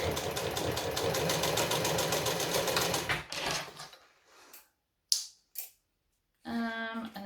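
A sewing machine runs fast and steadily for about three seconds while stitching a saltwater pouch, then slows into short back-stitch bursts separated by silence, ending with a brief whirring run.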